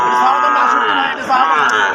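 Sahiwal bulls at Aftabganj cattle market in Nawabganj, Dinajpur, give a loud, drawn-out lowing moo close by, with a murmur of the market crowd behind.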